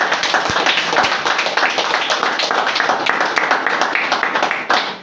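Church congregation applauding the Lord during a sermon, a loud, dense crowd clapping that keeps going for several seconds with a few louder taps mixed in.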